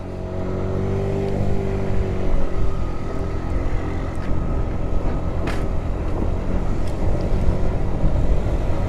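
A Keeway Fact 50 moped rides over cobbles, its small engine droning steadily and close with a rough, rumbling texture, plus a few brief knocks, heard alone without talk.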